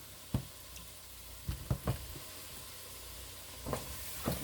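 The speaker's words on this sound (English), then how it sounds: "I want to give it a good healthy stir" Escarole, white beans and pepperoni cooking in a pan under a constant soft sizzle, with a handful of distinct utensil scrapes and knocks as the mixture is stirred.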